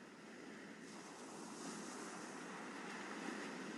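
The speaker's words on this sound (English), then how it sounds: "Like gentle tides lapping in, back to the sea, and back out and up onto the shore." Gentle ocean waves lap onto the shore, a soft continuous wash of surf that rises slightly toward the end, with some wind noise.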